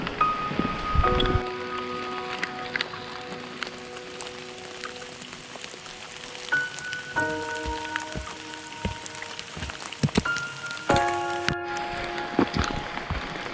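Rain patters on a Hilleberg solo tent during a backpacking trip, a steady close drumming on the fabric with scattered heavier drops and a few clear tonal sounds over it, no talk.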